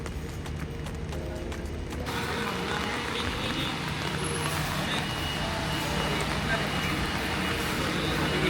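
A bus maneuvers onto a ship in Catanduanes, its engine rumbling steadily while faint, evenly spaced reversing beeps sound at the start, over constant low vehicle noise at moderate distance.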